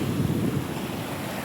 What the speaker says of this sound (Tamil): அலை வந்து அந்தளவுக்கு ஆக்ரோஷம், கடுமையான ஆக்ரோஷத்தோடு இருக்குது